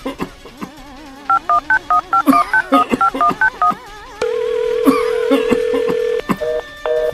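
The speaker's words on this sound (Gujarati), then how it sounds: "મારા દીકરાને ફોન લગાવી દો ને." Telephone keypad dialing tones: a quick series of short DTMF beeps, then a long steady tone and a few more beeps, loud and clear with no speech over them.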